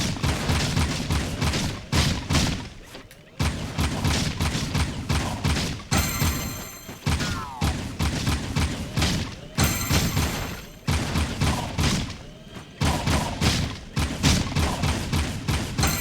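A gun in the video game Jak 2: Renegade fires in rapid bursts, dense booming volleys that repeat almost without pause and break off briefly now and then, loud and close under game music.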